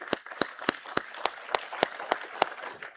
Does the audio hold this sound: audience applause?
yes